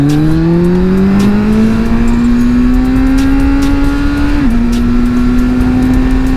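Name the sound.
four-cylinder roadster motorcycle engine while riding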